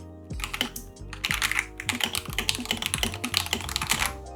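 Typing on a K98 mechanical keyboard with a stiff aluminium plate: a quick run of sharp, close clacks, single strokes at first and then a busier, uneven patter.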